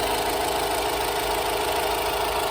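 A 2015 Honda CR-V 1.6 i-DTEC diesel engine idles steadily, warm, with a smooth, even hum and light mechanical clatter, close by and continuous, with no voices.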